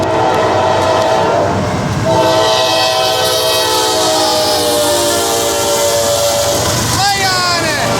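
Norfolk Southern intermodal freight train passing at about 50 mph, its horn blaring in long sustained chords over the heavy rumble of the cars, loud and close throughout.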